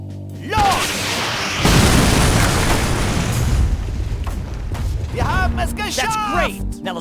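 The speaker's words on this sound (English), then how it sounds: "If you blow up the nearby fuel truck, it's possible that the blast wave may destroy part of the wall." A fuel truck explodes to blast through a brick wall in the Faces of War video game, a loud boom followed by a long rumbling roar, with voices speaking over it near the end.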